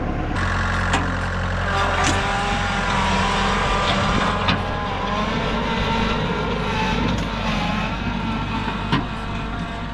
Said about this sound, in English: I need to borrow my neighbor's tractor, and we're gonna use this to break everything up.